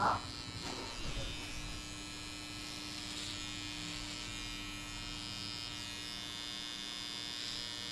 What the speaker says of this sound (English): So start with the trimmer, put it high fade.